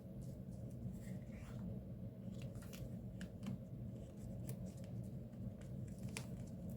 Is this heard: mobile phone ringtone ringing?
no